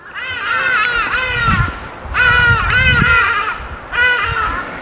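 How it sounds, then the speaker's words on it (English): Loud, harsh hadada ibis calls ring out in three bursts of repeated honking cries, close and raucous, with brief pauses between. "Loudest birds in Africa, called the Haji-Dau."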